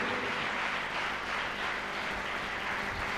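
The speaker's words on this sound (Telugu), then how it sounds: "చప్పట్లు కొడదాం, గట్టిగా చప్పట్లు కొట్టండి," A church congregation claps together during a worship service, producing a dense, continuous wash of applause at moderate level with no pause across the few seconds.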